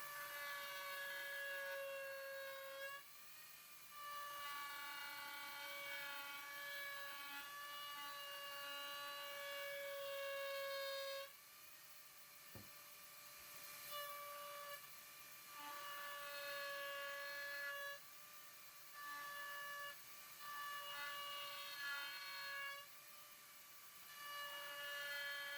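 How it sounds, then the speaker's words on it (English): A Dremel with a tapered bit cutting around a plastic bucket whines at a high steady pitch, close and loud, running in repeated passes broken by short pauses and one sharp knock. "I'm holding the Dremel bit in a way that the tapered bit ends up being kind of flat with the bucket"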